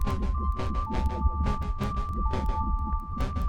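Knobby drone synth sounding two voices together, a steady throbbing, buzzing drone with sustained pitched tones and a pulsing rhythm roughly every third of a second, moderately loud and continuous with no talking.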